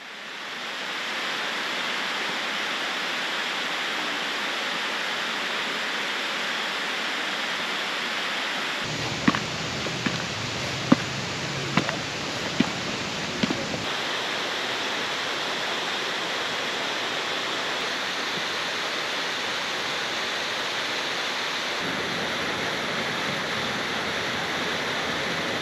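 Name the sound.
flowing water of waterfall along hiking trail, Ithaca NY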